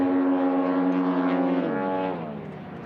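STOL drag race aircraft with a gear reduction drive engine revving hard at 8,000 RPM on takeoff, a loud sustained buzzing drone whose pitch shifts and then drops near the end, close by.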